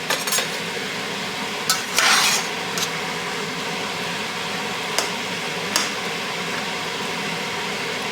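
Small diced tomatoes are stirred in a pot for arroz con pollo, with a utensil scraping and clinking against the metal in scattered knocks over a soft, steady background sizzle.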